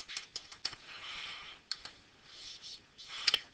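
Quick, light clicks of keys on a computer keyboard as a word is typed, sparse and irregular taps, close and soft, with a faint airy background and no speech.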